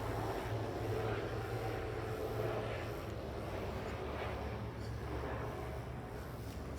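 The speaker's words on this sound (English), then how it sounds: "A helicopter right there." A helicopter flies overhead, a broad, steady droning rumble of rotor and engine at moderate distance, with no clear talking.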